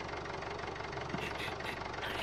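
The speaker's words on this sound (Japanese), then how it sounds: "あのエンジン入れてもらって" A video game vehicle engine runs steadily throughout, a continuous mid-pitched idle rumble with a slight knocking texture, fairly loud and uninterrupted, without talk.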